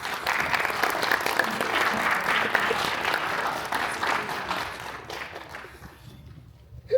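Audience at an evening veterans resource fair claps warmly, a loud, full round of applause that gradually thins and fades toward the end.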